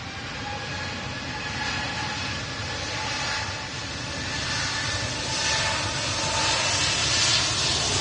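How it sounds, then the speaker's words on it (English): A large Airbus A380 passes at Manchester Airport in stormy, windy weather, giving a steady, broad roar that swells slightly toward the end, with no voices. "it's quite quiet for such a large aircraft"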